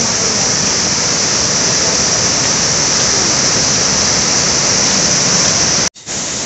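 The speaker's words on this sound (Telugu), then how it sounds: "బ్యాక్గ్రౌండ్ మొత్తం బొగతా వాటర్ఫాలే" Bogatha waterfall roars as a loud, steady wash of rushing water that fills everything evenly, then cuts out abruptly for a moment near the end.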